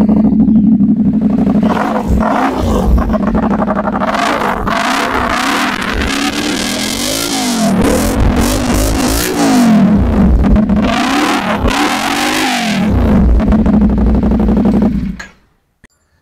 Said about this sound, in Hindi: गाइस अब आपको बाइक का साउंड चेक कराते हैं।